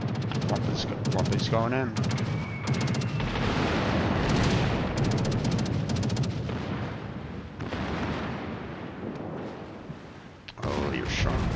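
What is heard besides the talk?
battleship artillery fire in World of Warships video game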